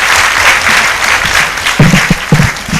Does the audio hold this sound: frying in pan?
no